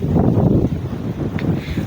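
Steady wind buffets the microphone outdoors during a jog, a continuous low rumbling roar with no voices.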